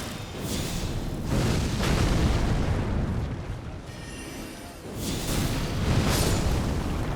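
Fire attacks blast enemies in Elden Ring, delivered as heavy rumbling bursts of flame in two loud waves with a brief lull between them.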